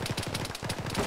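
A machine gun rattles in rapid sustained bursts in a military video game mission, loud and close with evenly spaced rounds.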